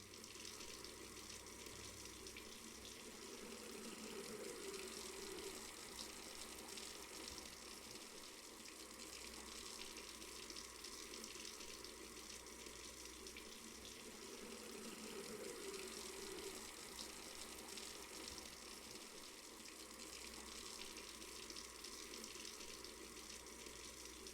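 Water pours steadily into a brewing container in the Brewmaster beer brewing simulator game, a constant gushing tap-like stream that stays even and quiet throughout.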